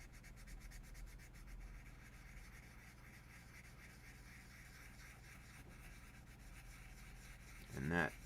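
A sanding block rubs across a plastic mecha model kit part in quiet, steady scraping strokes, with a brief louder knock near the end.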